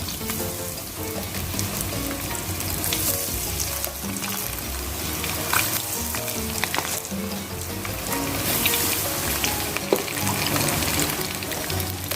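Chayote shoots deep-fry piece by piece in hot oil, a dense, crackling sizzle that runs steadily throughout with scattered pops and clinks, near and loud without talking.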